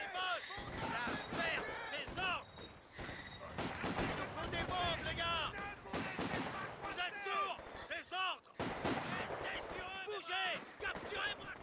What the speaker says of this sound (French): Je tire sur lui là.